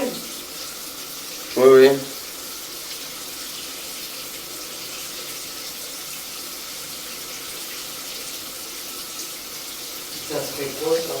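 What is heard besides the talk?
water running from a shower tap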